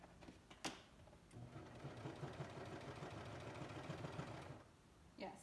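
A home sewing machine stitches a V-neck dress with flutter sleeves, running in a steady, rapid mechanical rhythm for about three seconds, with a few light clicks just before and after.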